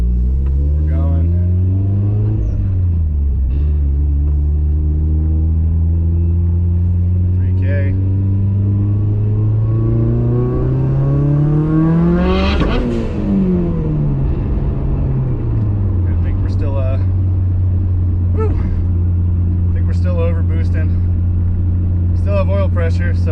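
A Mitsubishi Evo with a stock block engine drives and revs, its loud engine drone climbing and falling through gear changes with one sharp rev peak midway, close inside the car, steady throughout.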